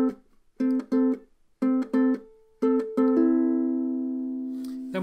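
Solo ukulele plays two bars of the melody from a song: short plucked notes in pairs, then a longer ringing chord that fades slowly, clear and close with no voices.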